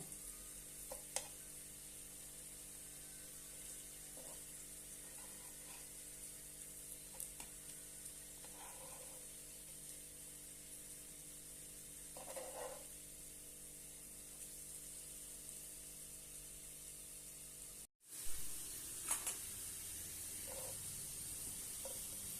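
Slices of elephant foot yam shallow-fry in oil, a faint, steady hiss broken by occasional soft pops and a brief clatter. A short cut near the end is followed by a louder burst of sizzle.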